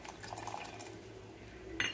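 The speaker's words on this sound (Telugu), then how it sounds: "ఇందులోకి తగిన వాటర్ అయితే వేసుకున్నాం." Water is poured into a pot of sambar made with dried field beans and tamarind juice, a brief liquid pour with a light splash and a faint clink of the vessel near the end.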